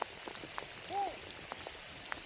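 Rain falls steadily during a bass fishing outing in southeast Oklahoma, a quiet continuous patter with scattered sharper drops close by.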